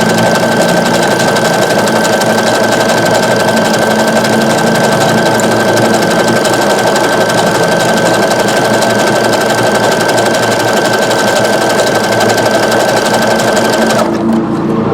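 A Brother SE625 sewing machine stitches a reversible rope bowl in one long, loud, unbroken whirring run at constant speed, close up, cutting off abruptly at the end.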